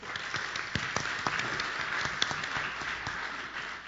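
Audience applause at a city council town hall budget meeting, a steady wash of many hands clapping at moderate distance, with sharper individual claps popping out and no talking over it.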